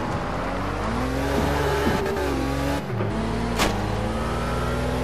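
A Ferrari 612 Scaglietti V12 in Test Drive Unlimited 2 accelerates hard through the gears during an online race, its engine note climbing and dropping at each shift, loud and close, with a brief tire squeal.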